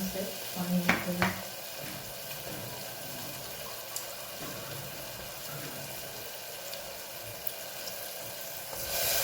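Water goes into a pan of sizzling red chili powder, salt and spice masala, a brief burst of splashing and hiss that settles into a faint steady fry, with a voice speaking over it.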